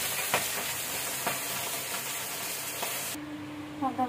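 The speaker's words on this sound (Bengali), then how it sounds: "পান্তা মাছগুলো ভেজে নিচ্ছি।" Panta fish frying in hot oil: a dense, steady sizzle up close with a few soft clicks and stirring touches, cutting off near the end, no talking.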